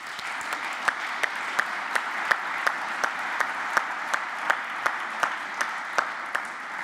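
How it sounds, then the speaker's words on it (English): Audience applause at an award ceremony: a steady wash of many hands clapping from a crowd, with a few sharper, louder claps standing out at an irregular pace throughout. "who also deserve a round of applause."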